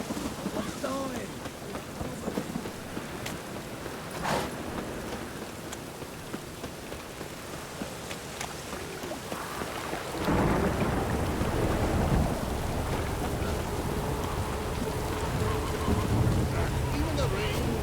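Steady rain pours down with a faint rumble of thunder in The Witcher 3: Wild Hunt, growing heavier and louder partway through, with some game-like background sounds.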